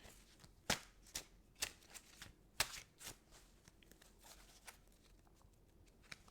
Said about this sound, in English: Shuffle real good.